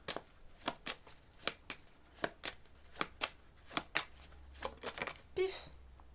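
Tarot cards being shuffled for a reading, a rapid series of crisp riffling bursts at irregular intervals, close and fairly quiet with no talk over them.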